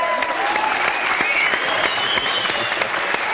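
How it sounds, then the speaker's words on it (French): Studio audience on a French television talk show breaks into steady, dense applause that fills the whole stretch without pause, loud and close, with no voices standing out over it. "On applaudit Dorothée"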